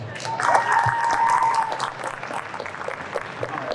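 A convention crowd breaks into applause, dense clapping that swells briefly then settles, with a whistle cutting through and voices murmuring.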